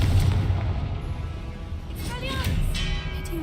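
A Confringo blasting spell explodes in the game Hogwarts Legacy, a dense, rumbling burst of noise under a voice calling out, with the roar swelling again late in the short stretch.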